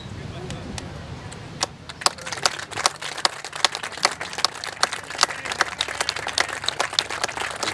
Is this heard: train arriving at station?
no